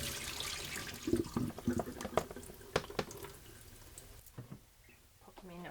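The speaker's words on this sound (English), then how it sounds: "I'm just going to give him another clean under fresh water." Freshly foraged razor clams being rinsed under running tap water at a caravan on the Eyre Peninsula, South Australia: faint splashing and clinking with irregular bursts of water, settling toward the end.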